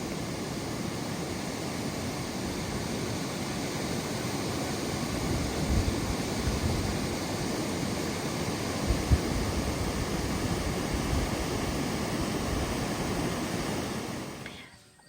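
A trout stream runs steadily, its rushing water a dense continuous wash of noise close by with no talk, holding even for about fifteen seconds before cutting off abruptly at the end.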